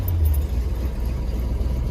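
A 1973 Chevrolet Monte Carlo survivor barn find runs steadily after starting, a close, loud low engine rumble and whir holding even throughout with no talk.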